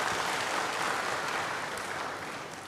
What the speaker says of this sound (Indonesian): Berikan tepuk tangan yang hebat bagi Dia.